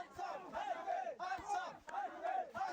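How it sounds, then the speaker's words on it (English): Wrestling crowd at a pro wrestling show chanting in rhythmic, repeated bursts, loud and close, the arena audience split between two sides with alternating swells of voices. "Crowd continues to be split."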